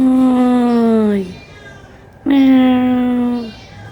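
A cat meows twice out in the open, each call a long, clear, fairly loud wail with a gap of quiet between them.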